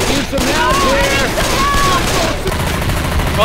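Gunfire in the video game Left 4 Dead, a loud dense stream of shots packed over the whole stretch, with a voice calling out beneath it.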